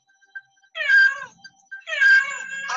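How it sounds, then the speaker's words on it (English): A cat gives two drawn-out, clear meows, close and loud, separated by a short pause, with no talking. "It's a cat."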